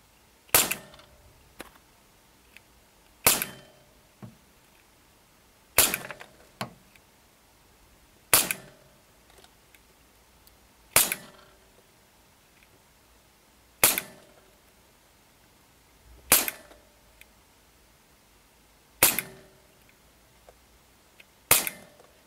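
A Secutor Gladius 17 CO2 airsoft pistol on a Crossman CO2 capsule fires 0.2 gram BBs: nine sharp, loud single shots spaced a few seconds apart, each followed by a faint clack, in a quiet room with no talking.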